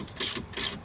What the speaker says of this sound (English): I'm gonna use just the ratchet